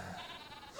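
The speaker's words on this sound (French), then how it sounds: "vous avez mes petites biquettes, mes petits moutons pour le lait, pour leur laine" A brief bleat from goats or sheep on a farm, faint and slightly distant, with a rising call at the very end and no talk.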